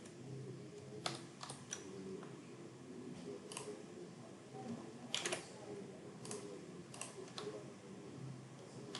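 Keys clatter on a computer keyboard while a script is written in Notepad++, an uneven run of soft, close taps with occasional louder keystrokes and no talking.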